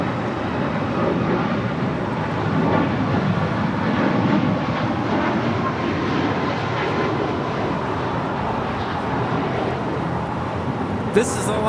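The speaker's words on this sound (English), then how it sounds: "This is Alaska Airlines 1072 departing to Seattle on a MAX 9" Alaska Airlines flight 1072, a Boeing 737 MAX 9, departing LAX for Seattle: a continuous, fairly loud jet engine rumble and roar that holds steady, with a sharp click near the end.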